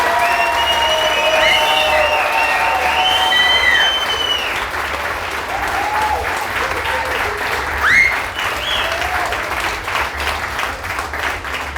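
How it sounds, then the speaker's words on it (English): An audience at an improv comedy show applauds loudly, a dense wash of clapping from a large crowd that slowly thins, with voices calling out over it. "round of applause for them Radulescu"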